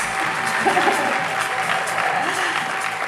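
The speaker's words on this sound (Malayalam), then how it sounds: "ഇങ്ങനെയൊന്നും കൈയടിച്ചാൽ പോരാ ഗൈസ്." Audience applause welcoming S. N. Swamy on stage at a film success meet, a steady mid-level wash of clapping with a voice faintly audible beneath it.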